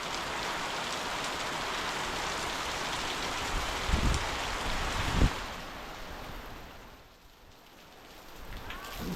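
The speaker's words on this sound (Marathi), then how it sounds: "आता पावसाने हजेरी लावलं आहे बघा असला पडतोय बघा" Heavy rain pours down in a Konkan village, a dense, steady hiss of drops with a couple of louder thuds, easing slightly near the end.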